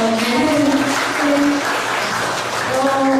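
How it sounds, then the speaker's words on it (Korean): Audience applause at a book launch concert in Osan, a broad wash of clapping filling the hall throughout, with a host's voice carrying over it. "큰 박수 보내주세요"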